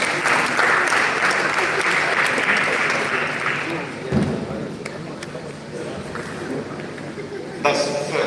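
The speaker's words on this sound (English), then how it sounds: "Please give them a round of applause." A crowd gives a loud round of applause at an award presentation in Nigeria. The clapping is dense at first and thins out halfway through, while voices murmur underneath.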